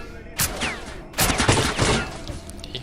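Gunfire in the shooter game S.T.A.L.K.E.R. Lost Alpha: two loud bursts of rapid shots, a short one and then a longer volley, set against a quieter background.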